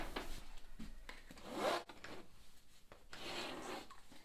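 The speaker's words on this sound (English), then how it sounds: "I'm going to just go in with some scratches into the paint." A tool scratches marks into wet paint on a large canvas, quiet rasping strokes in several short uneven bursts, close and soft with no voices.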